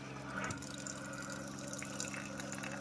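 A Keurig coffee maker, just reset after failing to turn on, dispenses water in a soft steady trickle with faint pump hum and a brief gurgle, quiet and close.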